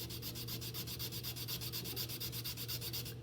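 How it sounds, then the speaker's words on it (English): Sandpaper is rubbed back and forth across wooden mousetrap car rails to shape a U, making quick, even, rhythmic scratching strokes that sound close and continuous. "you're just sanding nice and straight in a controlled manner until you have a letter U in both rails"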